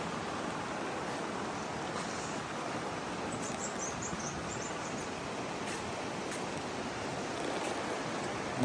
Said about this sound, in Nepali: यो चाहिँ माइ र जोकमाई मिसिएको ठाउँ